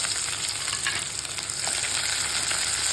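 Chopped shallots fry in hot oil with mustard seeds and curry leaves for an ennai kathirikai kootu, giving a continuous dense sizzle with faint crackles, close and steady throughout.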